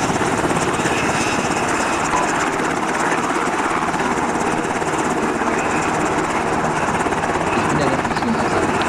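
A helicopter in a multiplayer shooter video game keeps up a steady, loud rotor and engine drone for the whole stretch, with no break or change in level.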